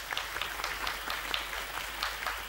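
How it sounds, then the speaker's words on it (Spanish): Studio audience applauding the contestants on a Spanish television quiz show, a continuous, fairly quiet wash of many hands clapping with no talk over it. "Un aplauso para nuestros amigos concursantes."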